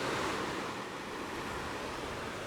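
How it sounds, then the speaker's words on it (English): Ocean waves on Dadaepo Beach in Busan, South Korea, a steady broadband wash of surf with some wind noise; any distant helicopter is not distinguishable beneath the waves. "mixed in with the ocean sounds way in the distance is a helicopter"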